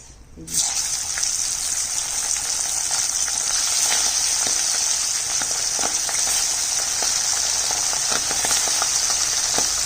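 Fish frying in a pan of hot oil gives a loud, steady sizzle and crackle from start to finish, with no pauses, close to the microphone.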